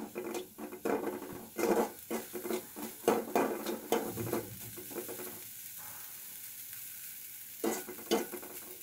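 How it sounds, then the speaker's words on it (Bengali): Grated coconut with a little salt and turmeric powder fries in a pan, a gentle sizzle broken by repeated scraping stirring strokes in an irregular rhythm, close up and without speech. "দিয়ে দেব সামান্য লবণ, সামান্য হলুদ গুঁড়ো। এখন একটু নেড়ে চেড়ে কিছুক্ষণ ভেজে নেব।"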